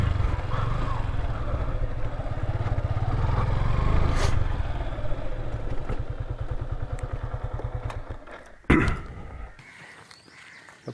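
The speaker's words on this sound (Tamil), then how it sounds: "பைக்கை பார்க் பண்ணிட்டு வரட்டான்" A motorcycle idles and rumbles steadily near the listener for about eight seconds, then a clattering thump follows as the engine cuts and the bike is parked, leaving quieter background.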